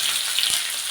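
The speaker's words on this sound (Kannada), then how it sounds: "ನೋಡಿ, ಇವಾಗ ಒಗ್ಗರಣೆಗೆ ಈರುಳ್ಳಿ ಹಾಕ್ಕೋಬೇಕು." Onions hit hot oil for the tempering of baby corn Manchurian, giving a dense, steady, close sizzle with a faint soft knock midway.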